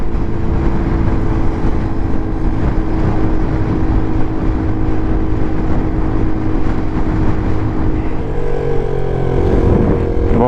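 Peugeot PM-01 125 motorcycle riding on a highway, a steady loud engine drone with wind rush throughout, the pitch shifting slightly near the end as the revs change.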